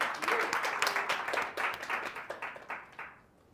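An audience in a talk or meetup setting bursts into applause, a loud, dense clatter of many hands that holds steady before thinning and dying away at the end.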